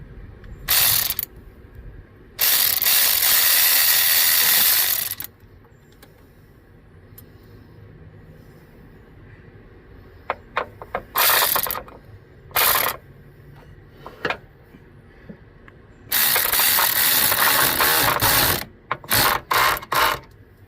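Ratchet with a long extension working radiator bolts on a 2006 Ford F150 with the 5.4 engine: several bursts of loud rapid clicking, close by, separated by quieter stretches and a few single clicks.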